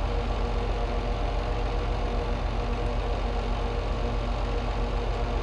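A new farm tractor's engine runs at idle, a steady, close, low chugging throb that holds even for several seconds with no voices.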